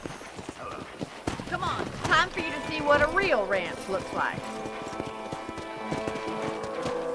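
Horse hooves clip-clop at a steady walking rhythm on a ranch in the video game Red Dead Redemption, continuing under close conversational talk and background music.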